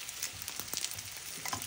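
Danggit fish frying in hot oil, a soft steady sizzle with a few brief crackles and stirring sounds, quiet and close, with no voices.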